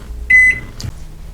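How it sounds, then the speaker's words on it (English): Toshiba microwave oven with a smart sensor giving a single short, clear electronic beep as a button is pressed, followed by a faint click in a quiet room. "Sometimes you don't want to hear the beep."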